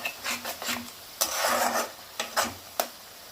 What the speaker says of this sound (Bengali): এটা খুব ভালো করে কষিয়ে নেব যতক্ষণ না মশলার গন্ধটা, কাঁচা গন্ধটা চলে যায়।